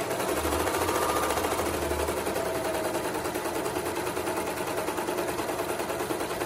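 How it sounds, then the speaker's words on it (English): A serger overlock machine stitching a fabric edge hums steadily with a rapid, even chatter that runs without a break from start to finish. "Or I can lay it flat down like this with a serger."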